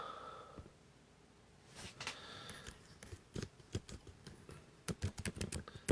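Keys clatter on a computer keyboard as a message is typed, quiet at first and then building into quick irregular bursts of clicks up close, with a louder tap to finish and no speech.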